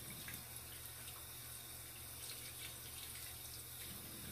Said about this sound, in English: I'm gonna rinse my hands really quickly